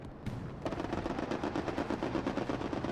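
Rapid machine-gun fire from an aircraft strafing run in a WWII-style multiplayer shooter, Axis versus Allies, hammering in a dense continuous burst after a brief lead-in, loud and close throughout.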